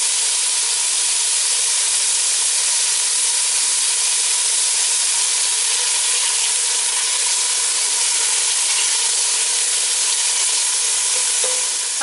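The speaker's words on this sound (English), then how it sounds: "We just kind of want to crisp up a little bit of that ham." Diced ham crisping on high heat in a pot for split pea soup, a steady, loud, even sizzle with no breaks and no voices.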